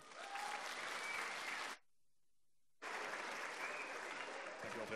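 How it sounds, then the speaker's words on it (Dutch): A hall packed with children at a children's university lecture bursts into loud, dense applause, breaks off into near silence for about a second, then the clapping resumes just as strongly. "Applaus voor Björn!"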